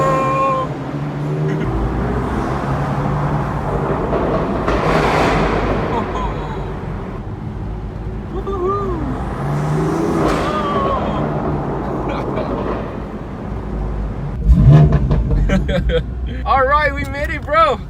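A BMW M4 Performance rides in a convoy behind a Porsche GT3 RS and other BMW M cars in Singapore, giving a steady engine and road drone throughout, with a few sharp bangs late on and people talking over it.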